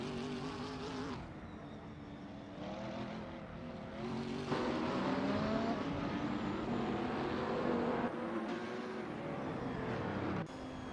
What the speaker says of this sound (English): We're currently watching an intense race in the AI racing simulator.